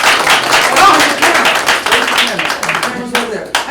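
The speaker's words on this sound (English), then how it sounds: "Give her a round of applause." Applause and clapping from a team meeting audience, fairly loud and continuous, with voices and cheering mixed in throughout.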